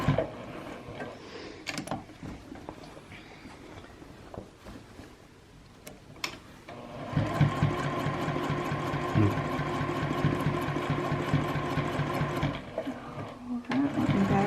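A sewing machine runs steadily for about seven seconds, stitching along the bottom and top edges of a fabric advent calendar panel. It is preceded by quieter handling and rustling, with a brief pause near the end.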